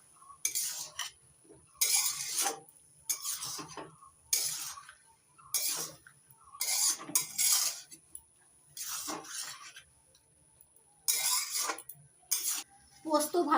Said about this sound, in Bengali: এবার দিয়ে দিচ্ছি বেটে নেওয়া কাঁচা লঙ্কা আর পোস্ত। পোস্ত দেওয়ার পর নাড়াচাড়া করে একটু মিশিয়ে নিচ্ছি।